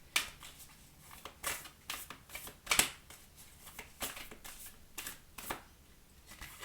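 Oracle cards shuffled by hand for a morning reading, a steady run of soft riffling flicks and slaps repeating every half second or so, close and fairly quiet with no talk.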